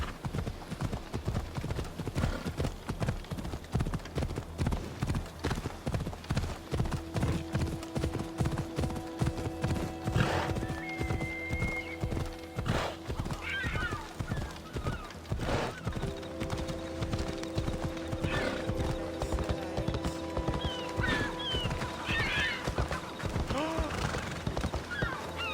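Horse hooves gallop in steady, rapid clip-clop rhythm throughout in Assassin's Creed Odyssey, close and continuous, with occasional whinnies and snorts and faint game sounds layered over the pounding gait.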